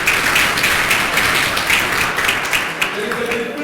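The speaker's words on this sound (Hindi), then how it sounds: "ये सुनो, तालियां बजती चाहिए।" Audience applause at a personality development session, dense continuous clapping from a crowd in a hall, steady and fairly loud throughout, with a voice faintly audible beneath.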